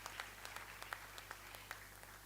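Faint, distant applause from an audience at a college day ceremony for prize-winning students and faculty, a thin patter of scattered claps over a low hum.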